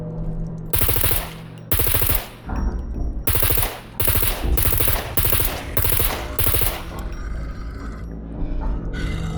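Rapid rifle fire in the video game Scum, loud close bursts of automatic shots broken by short pauses, with a few longer sustained volleys.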